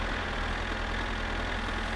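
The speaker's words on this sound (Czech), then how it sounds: "Mi přijde, že ten traktor jede jakože fakt rychle" Tractor engine from the game My Summer Car, hauling a load at speed: a steady, continuous low mechanical drone with even rumble throughout, close and unbroken, with no talking.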